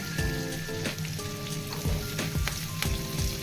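Ginger garlic paste frying in melted butter in a pan for chili prawns, giving a loud, dense, continuous sizzle with crackling spatters and occasional stirring, and no voices.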